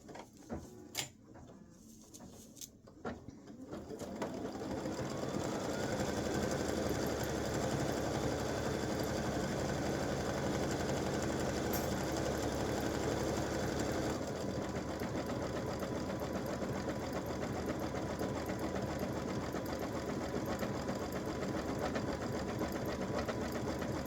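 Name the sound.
embroidery machine stitching red thread appliqué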